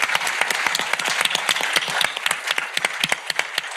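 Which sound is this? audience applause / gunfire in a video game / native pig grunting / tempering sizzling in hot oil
audience applause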